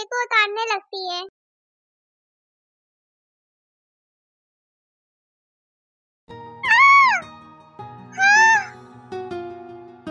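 A cat stuck up high gives a few quick, close meows, then after a long silence two longer, louder drawn-out meows over a low background hum.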